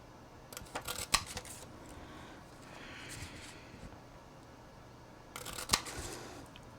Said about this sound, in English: then punch with the 1 1/4 inch punch